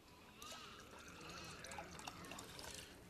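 Sake poured into a pan in a kitchen, a faint, steady trickling splash of liquid lasting a few seconds.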